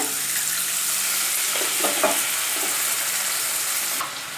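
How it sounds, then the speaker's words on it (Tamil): Steady sizzling and bubbling in a hot pan as water boils with a lemon rice tempering, a continuous hiss with faint stirring clinks, no voices. "ஒரு அரை டம்ளர் தண்ணி ஊற்றி கொஞ்சமாக கொதிக்க விடுங்க"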